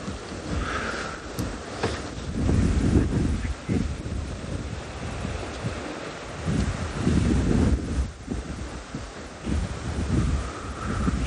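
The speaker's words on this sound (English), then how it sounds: "It's quite windy here." Wind gusting outdoors on a morning safari drive in South Africa, rising and falling in loud rumbling bursts of microphone buffeting across the whole stretch, with no voices.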